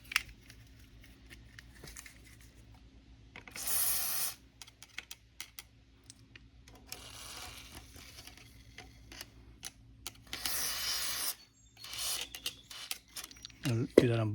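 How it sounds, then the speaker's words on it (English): A couple of short, sharp aerosol bursts of oil hit a bolt on a small motorcycle with a seized brake, separated by quiet stretches of workshop handling noise and someone talking. "I'm going to give that bolt a little shot of oil"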